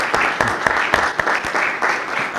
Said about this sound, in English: Let's all give them a big hand of applause.